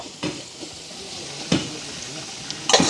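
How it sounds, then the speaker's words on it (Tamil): Onions being stirred and sautéed in a pan for village-style vegetable biryani, with a soft steady sizzle broken by three sharp scraping stirs of the spoon, close and moderately loud. "இதை வந்து அப்படியே பிரட்டி விடுவோம் வெங்காயம் நல்லா வதங்கட்டும்"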